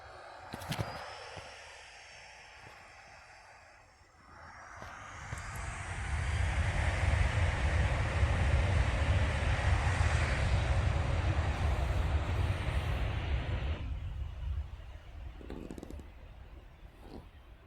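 An airplane takes off as its engine swells into a loud, sustained roar that holds steady for several seconds, then falls away. A faint hiss runs beneath it, and a few brief knocks come before the roar builds.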